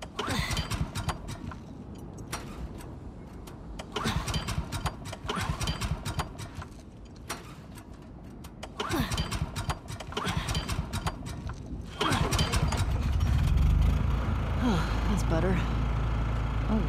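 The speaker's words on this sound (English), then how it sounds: "Hey, found the generator." A generator engine in The Last of Us Part 2 sputters in uneven bursts under intermittent talk, then settles into a steady, loud running drone from about twelve seconds on.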